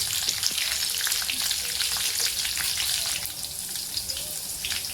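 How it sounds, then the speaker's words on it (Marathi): Curry leaves and cumin seeds sizzle and spit in hot oil for a dal bati dish, a loud, steady crackling fry that stays dense throughout, with no talking. "आता आपण याच्यात कढीपत्ता टाकायचा आहे. मग आपल्याला याच्यात जिरे टाकायचे."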